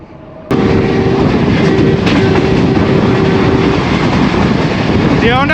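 Tezgam passenger train on the Pakistan Railways main line, a heavy rushing rumble that starts abruptly and holds steady and loud, with a faint tonal whine and a brief rising squeal near the end.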